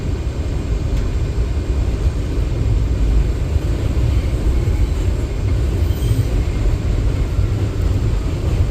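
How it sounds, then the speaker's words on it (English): An R179 M local subway train in New York rides between stations with a loud, steady rumble and roar of wheels on track that continues unbroken throughout. "This is a Middle Village Metropolitan Avenue bound M local train."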